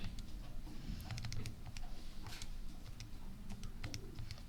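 Numbers being keyed in for calculations, a patter of light, irregular key taps and clicks spread across the clip over a steady low background hum, with no talking.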